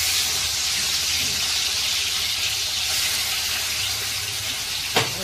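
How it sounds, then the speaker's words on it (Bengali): Prawns fry lightly in hot oil with a steady, even sizzling hiss close by, ending in a single short clunk, with no speech. "চিংড়ি মাছটা একদম হালকা করে ভেজে নেবো, বেশি ভাজবো না"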